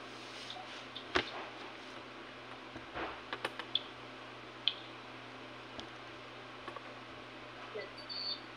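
Sparse keystrokes on a computer keyboard during an online tutoring session, a few scattered clicks and short bursts at irregular intervals, faint and close against a low steady hum.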